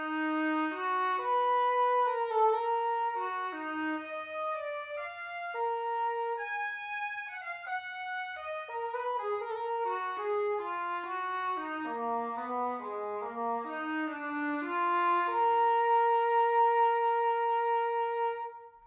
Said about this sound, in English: We have the English horn.